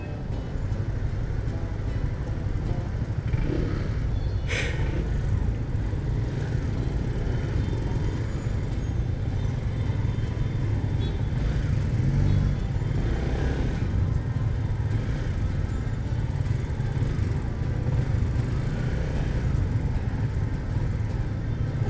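Steady, dense engine rumble from a motorcycle crawling through heavy traffic uphill on Katipunan, with surrounding car and motorbike noise blending into a constant close roar and no talk.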